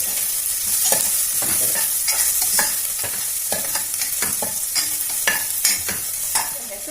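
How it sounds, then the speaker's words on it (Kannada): Cashews and onions frying in hot oil for a pongal tempering, a steady bright sizzle with repeated stirring scrapes close up throughout, no talking. "ಈಗ ಈರುಳ್ಳಿ ಸ್ವಲ್ಪ ಹುರಿದಾಗಿದೆ ಈಗ ಗೋಡಂಬಿ ಸೇರ್ಸೋಣ"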